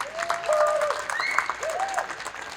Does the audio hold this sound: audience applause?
yes